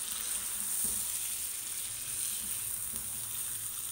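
Curry masala with green chilies and yogurt fries in a pan for an aloo chicken curry, a steady, close hiss and sizzle with faint stirring scrapes and no voices.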